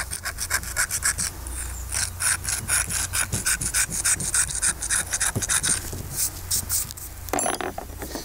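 An artist's tool scrapes and files a material in close, rhythmic rasping strokes that repeat steadily without pause, a woody rubbing texture with no talk.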